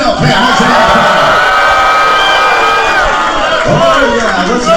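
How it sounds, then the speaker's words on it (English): A large outdoor crowd at a lumberjack competition keeps up loud, continuous cheering, whooping and heckling shouts, a dense wall of voices throughout. "a little bit of the heckling has already commenced"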